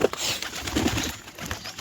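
Pigeons coo softly around a nest where a few pairs have laid eggs, a few low murmuring calls spread through a short stretch of faint, scratchy background noise.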